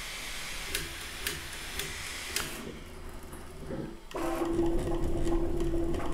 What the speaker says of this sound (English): It's not too crazy loud for how fast it's printing.